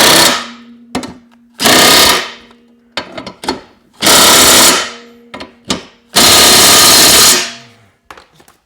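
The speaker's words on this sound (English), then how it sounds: "And I'm going to have my impact on low." A cordless impact wrench on its low setting hammers a bolt snug while servicing a Honda walk-behind mower, sounding in three loud rattling bursts of a second or more, separated by shorter blips and clicks, close up with no talk.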